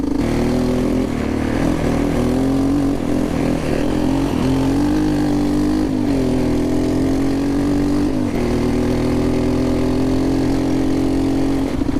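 A Suzuki LT230E electric-start quad ATV engine idles close by, a steady loud low drone with slight wavering in pitch throughout, with no talking.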